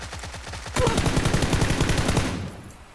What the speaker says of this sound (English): I'm shooting, Graham.